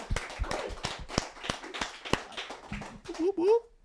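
Audience clapping at a live event, with sharp, uneven claps rising and falling around loud whoops, cheers and voices calling out over the top.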